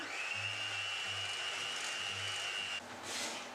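Steady whirring hum of an electric mixer beating dough, close and continuous, with a faint high whine through most of it that cuts off near the end.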